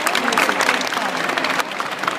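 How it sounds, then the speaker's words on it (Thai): An audience at a children's music performance breaks into brief applause, a dense burst of clapping mixed with crowd voices. "ขอเสียงปรบมือด้วยครับ"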